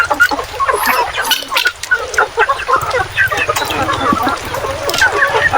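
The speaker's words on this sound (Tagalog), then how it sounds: "Isang planggadang manok." Chickens cluck and squawk close by in a busy, continuous flock chatter, with a few louder calls standing out.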